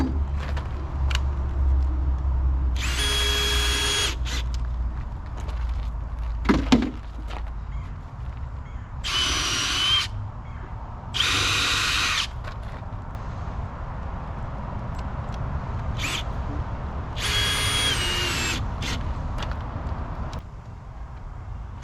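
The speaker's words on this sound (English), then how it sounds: "and drive my screws in." A power drill drives screws into wood while a wooden planter box is built, sounding as several separate bursts of whirring with quiet pauses between them, up close and over a steady low background hum.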